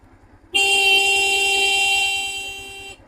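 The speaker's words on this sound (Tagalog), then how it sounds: "Naka-stock horn. Tapos, walang relay." A stock car horn wired without a relay blasts one steady, loud, bright honk lasting about two and a half seconds, then cuts off abruptly, with a low idling hum underneath.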